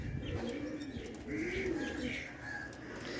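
Kalsera Andhra pigeons cooing up close in a loft, with soft repeated throaty coos and a few higher chirps over faint background noise.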